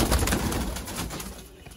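A pigeon coos close by near a cage during pigeon keeping in Sialkot, Pakistan, giving a short, soft, throaty coo over a low background rumble.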